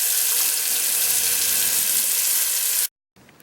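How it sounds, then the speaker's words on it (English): Water gushing steadily from an opened sink faucet, a loud close hiss that cuts off abruptly before resuming briefly. "So the first, opening the water faucet."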